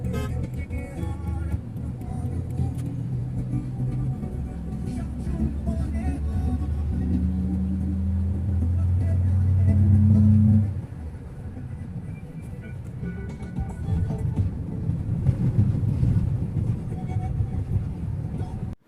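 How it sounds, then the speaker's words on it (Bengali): Toyota Hiace van cruising at about 90 on the road after a fuel system repair, a steady low engine and road rumble throughout, with a louder droning tone midway and someone talking over it. "দেখতে পাচ্ছেন স্পিড মোটামুটি এখন ৯০ স্পিডে চলতেছে গাড়ি"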